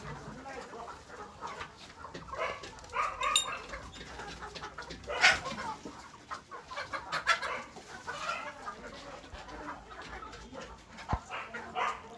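Chickens on a local poultry farm cluck in scattered bursts with occasional sharper calls, fairly close and moderately loud over a busy farmyard background.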